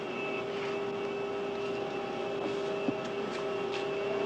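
A steady drone from a small airplane's engine in a 1985 film, with a constant hum and no talk over it.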